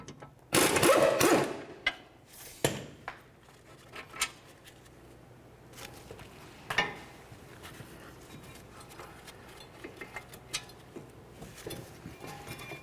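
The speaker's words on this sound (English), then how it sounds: "The next thing we're going to do is remove our 2 caliper bracket bolts." Brake caliper bracket bolts being removed from a 2014-2020 Nissan Rogue front wheel: bursts of a power ratchet whirring close up, followed by scattered metallic clicks and taps of tools and parts.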